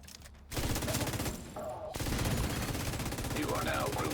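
Rapid automatic gunfire rattles continuously in a video game, loud and close with dense repeating bursts and a brief shift partway through.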